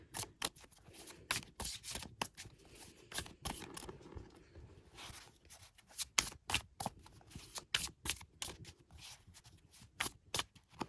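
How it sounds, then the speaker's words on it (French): A deck of tarot cards being shuffled by hand, a long series of crisp riffling and slapping bursts in irregular rhythm, close and fairly quiet with brief pauses between shuffles. "j'ai besoin de battre un peu les cartes"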